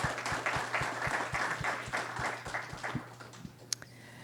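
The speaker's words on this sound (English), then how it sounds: "let's give all of our panelists a round of applause." Steady audience applause for a university panel discussion, many hands clapping at once, a dense crackling patter that holds for several seconds before thinning out at the end.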